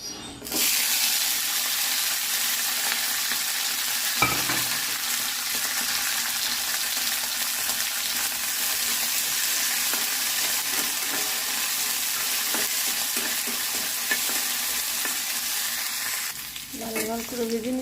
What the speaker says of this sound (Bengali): ভর্তা করব, আগে রসুন মরিচগুলো একটু ভেজে নিব